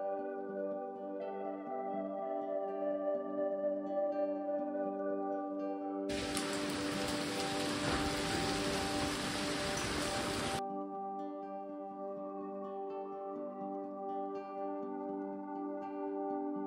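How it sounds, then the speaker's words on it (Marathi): Heavy rain pours in a loud, dense hiss that bursts in midway over a steady humming tonal background, lasting a few seconds before cutting off abruptly. "पावसाचा जोर बघून तर एवढं वाटतंय की पाऊस आज प्रचंड आहे"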